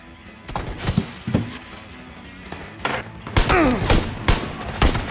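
Gunshots in PlayerUnknown's Battlegrounds ring out in scattered single cracks and short bursts, sharp and fairly close, with a brief whistling streak midway and no talk over them.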